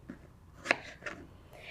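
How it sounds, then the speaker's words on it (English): A knife roughly chops strawberries on a cutting board, with a few soft, separate cuts and one sharper knock against the board, heard up close and quiet with no talking. "so you're just going to roughly chop up these strawberries"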